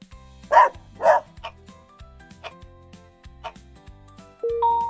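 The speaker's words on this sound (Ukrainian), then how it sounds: "Він гавкає. Гав, гав." A small dog barks twice loudly, then gives several softer yips and barks spaced over a few seconds, with a faint rhythmic ticking beneath and a brief tone at the end.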